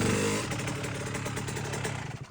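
A Yamaha YZ 65 dirt bike pulls away in gear after a Rekluse Core EXP clutch install, its small two-stroke engine buzzing close by, then fading as it rides off.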